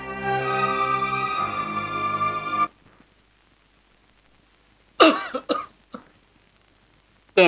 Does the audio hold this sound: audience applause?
no